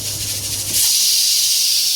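A pressure cooker holding vajri on a home kitchen stove bursts into a loud, sharp steam hiss that starts abruptly partway through and keeps blowing strongly to the end, following a low rumble.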